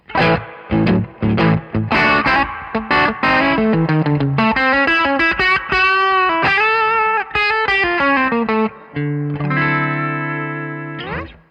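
An electric guitar with a Fralin P92 pickup and a driven, effected tone plays quick chords, then sustained ringing notes and a held chord; loud and close, no voices.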